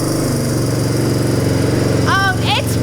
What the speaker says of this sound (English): Now that's a steady idle.